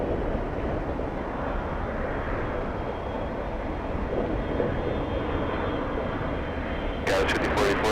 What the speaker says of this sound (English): Whoa, big one, 757 coming in.